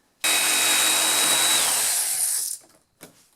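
A circular saw rips through fiberglass trailer door panel material in one loud, steady, high-pitched whine lasting about two seconds, then stops abruptly, leaving only a faint brief clatter afterward.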